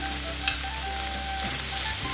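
Onion and garlic fry in a pan, producing a steady, even sizzle that holds throughout, with one brief click near the start and no voices.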